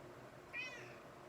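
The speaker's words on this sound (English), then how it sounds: "I have the cat trying to join in on the lesson" Single short cat meow during a piano lesson, faint and a little distant over a quiet room background.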